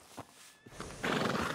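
A horse in the Red Dead Redemption 2 video game gives a short, faint whinny, followed by a quick run of hoof clops on the ground, all in under two seconds.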